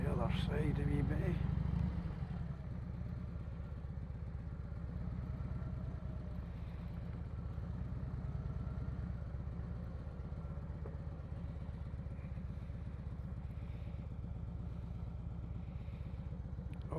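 A motorbike engine idles and then moves off on a camping trip toward Applecross, with a loud rumble at first that settles into a steady, moderate drone.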